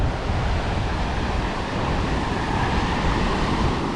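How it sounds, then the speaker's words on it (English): Surf breaking on Chaweng Beach, Koh Samui, a broad continuous wash of waves mixed with wind buffeting the microphone, fairly loud and steady. "Bit of surf today."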